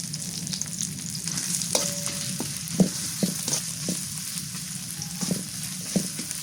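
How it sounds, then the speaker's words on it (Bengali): Bay leaves, cardamom and cinnamon fry in oil on a village clay stove, a continuous close sizzle broken by frequent light pops and clinks of a stirring spoon, no speech. "দুইটা তেজপাতা দিই আস্ত গরম মশলা এটা বড় এলাচ ছোট এলাচ আর দারচিনি দিয়ে দিলাম"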